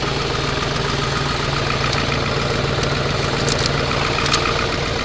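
A Ford 7.3 diesel engine tuned to 600 hp runs steadily after a cold start, a loud, even idle with a rough, knocking rattle, close by and with no talking.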